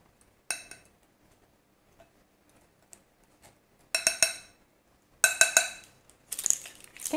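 A whisk or spoon quickly mixing sieved dry ingredients for white chocolate macadamia nut cookies in a bowl, a few sharp clinks, then bursts of rapid close scraping and rattling with quiet gaps between.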